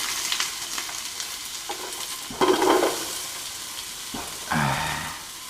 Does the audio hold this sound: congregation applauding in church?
no